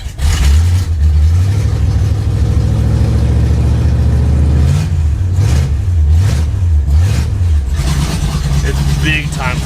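A flooded engine in an abandoned Pontiac, unused for 48 years, revving and bogging in loud uneven surges with a wavering low drone, close up, while someone talks over it.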